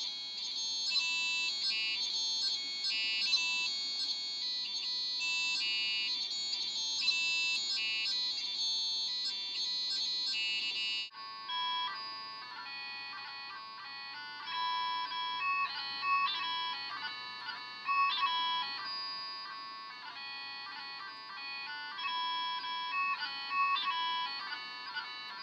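A Fagerstrom Electronic Technopipe, an electronic bagpipe chanter, plays a bright, reedy melody of sustained synthetic tones, loud and continuous with quick note changes and no voices.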